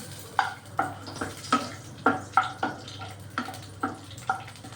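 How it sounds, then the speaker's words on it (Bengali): Black cumin seeds and green chillies fry in raw oil in a pan, with soft sizzling and a run of regular stirring scrapes, fairly quiet. "কাঁচা তেলের মধ্যে কালো জিরে আর কাঁচা লঙ্কা একটু ভাজা ভাজা করে সুন্দর গন্ধ করে নেব"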